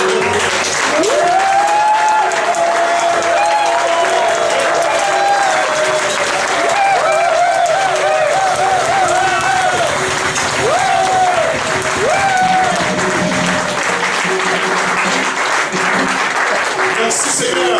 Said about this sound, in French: Est-ce qu'on peut vraiment acclamer celui qui est le chef de l'État?